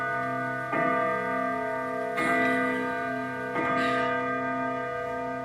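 A clock chimes at intervals of about one and a half seconds, each strike ringing out with a long sustained tone that decays slowly into the next, resonant and fairly close.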